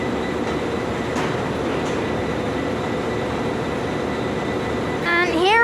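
A 4000 class train stands at Belfast Grand Central station with a steady loud rumble and hum, and near the end it gives a rising warbling tone.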